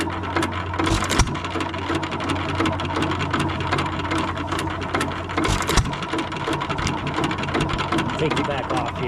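A 1925 Hercules 2 hp stationary engine runs steadily up close, a dense continuous mechanical chugging with a low rumble and occasional sharper knocks throughout.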